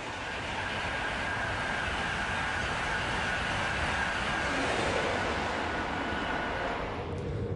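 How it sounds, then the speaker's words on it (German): An ICE 1 high-speed train, class 401, runs steadily with a continuous broadband rumble and rushing wind, loud and sustained throughout with no talk. "Der ICE 1 oder die Baureihe 401 ist für eine Höchstgeschwindigkeit von 280 km/h zugelassen."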